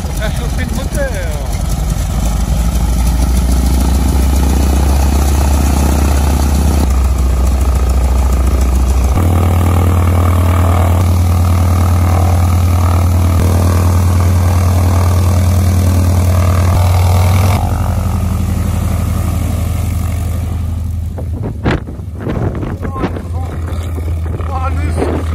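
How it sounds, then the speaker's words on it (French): A loud, steady aircraft engine drone at an airfield, shifting pitch as the engine warms up and runs up, then a roaring blast of propwash near the end. "Ça chauffe le moteur."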